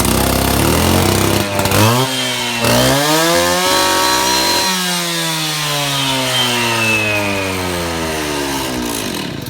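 A 770 truck saw engine fires up and runs steadily, its loud revving drone rising and falling in pitch with strong harmonic bands, close by and with no talk over it.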